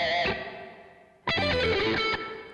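An electric guitar plays sustained, effected notes that ring out and fade into a long reverb tail, then a new bright strummed phrase follows and decays.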